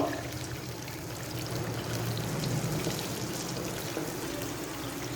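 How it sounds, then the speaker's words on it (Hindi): Whipped yogurt is poured into a chicken karahi with oil, making a continuous wet, gurgling pour with sizzling spread over several seconds, close up and without talk. "अब मैं इसके अंदर डाल दूँगी जो दही मैंने फेंट के रखी थी वो।"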